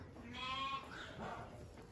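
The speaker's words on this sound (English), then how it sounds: "So I have 2 sheep in here that don't belong." Sheep bleat inside a pen, with a couple of short, quavering calls close by over a low background of farm noise.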